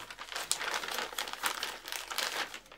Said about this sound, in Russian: После этого мы упаковываем пульт в почтовый конверт